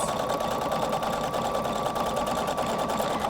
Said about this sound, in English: I'm going to turn it back to its original position and sew until it stops